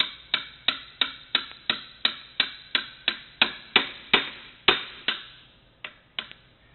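A chair shaft struck repeatedly against the wooden frame of a bench: about sixteen sharp, hard knocks at a steady quick rhythm, close and distinct, slowing to a couple of final taps, with no talk.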